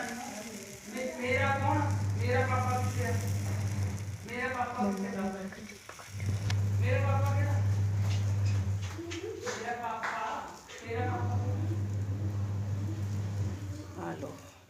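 Dosa batter sizzles on a hot griddle as it is spread thin, a steady frying hiss running underneath someone speaking throughout, with the sizzle carrying through the pauses between her sentences.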